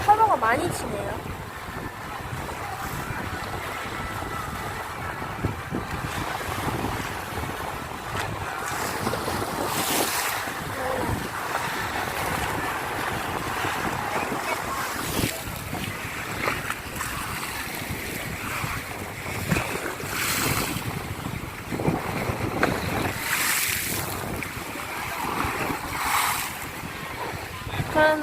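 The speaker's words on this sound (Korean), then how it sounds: "파도가 많이 치네요." Sea waves roll and crash steadily along a seaside shore in Thailand, a continuous surf wash with gusty wind noise across the microphone and swells rising at intervals.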